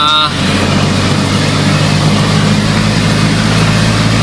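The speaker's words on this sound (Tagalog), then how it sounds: "Halos di na makita ang daan sa sobrang lakas ng ulan." Heavy rain pours steadily onto a road in Laguna, a dense, constant hiss with a low rumble of passing vehicles beneath, loud and unbroken throughout.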